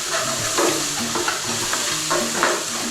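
A whisk scrapes and stirs tomato puree through frying spices in a hot pan for mango chicken curry. Rhythmic metallic scraping strokes sound over a steady, close sizzle, with no speech.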